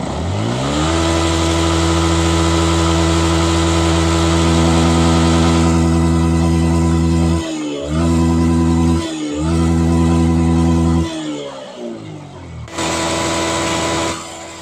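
A Yamaha R15 V1 motorcycle engine with a misfire fault, idling loudly and steadily close by, then revved several times, each rev briefly dropping before settling back to idle.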